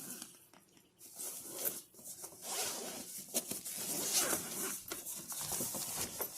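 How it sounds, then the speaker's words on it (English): A zipper on a carrying case for an Oculus Quest 2 headset is pulled open in a long, close, raspy run with a few short pauses and tugs. "here's the zipper too."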